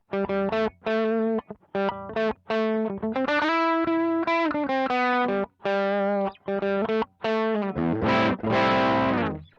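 Electric guitar through a Sonicake Twiggy Blues overdrive pedal playing a bluesy lead line, sustained distorted notes and bends, loud and close, then a few heavier strummed chords at the end.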